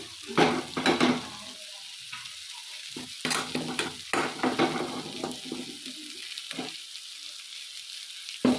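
Wooden spoon stirring puffed corn kernels through a sizzling oil tempering in a pan for a spiced corn snack, with irregular scraping strokes and soft rattles over a steady low fry, fairly close and without any voice.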